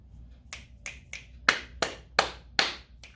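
Seven sharp finger snaps and hand claps ring out one after another in a quiet indoor setting, the later ones louder and crisper, with no talk.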